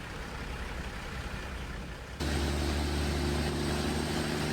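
Caterpillar 3406E diesel truck engine in American Truck Simulator, a loud steady drone that jumps abruptly to a heavier, deeper rumble with strong low harmonics partway through.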